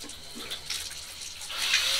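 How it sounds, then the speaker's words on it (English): Running water from a tap rinsing paint off a mixing paddle on a cordless drill in a paint shop, a steady broadband splash that swells louder toward the end, with no talking. "you might as well put it under running water and rinse it off"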